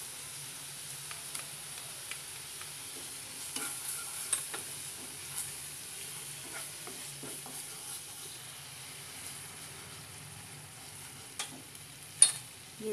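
Onion paste and ginger-garlic paste frying in a pan for an eggplant-yogurt curry, giving a soft, steady sizzle with scattered scraping stirs and a sharper clink near the end, all fairly quiet and without voices.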